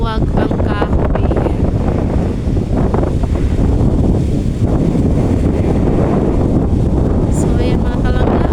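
Strong wind in Vietnam roars and buffets loudly and constantly across the microphone, with a voice talking faintly underneath the rushing gusts.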